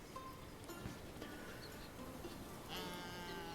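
Sheep grazing in a pasture bleat in the medieval city-building game Manor Lords, giving a couple of faint, quavering calls over a constant airy ambient hiss.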